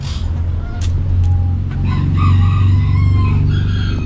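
Backyard chickens up close: a rooster and hens cluck and murmur in low, continuous, overlapping calls, with a few sharper clucks mixed in.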